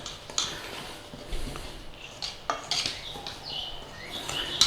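Two kinds of flour and salt being stirred together in a mixing bowl, with light scraping and clinking of the utensil against the bowl in short irregular strokes.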